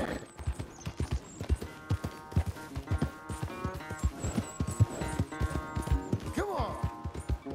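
Horse hooves clip-clopping in Red Dead Redemption 2, a rapid uneven run of hoofbeats near a corral, with a snort or whinny partway through over a low game music bed.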